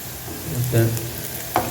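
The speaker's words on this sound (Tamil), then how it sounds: "நல்லா சூடாகிட்டுருக்கு ஃப்ரை ஆகிட்டுருக்கு பாருங்கள்" French fries frying in hot oil give a steady, dense sizzle with a few louder bubbling bursts, close up and brief.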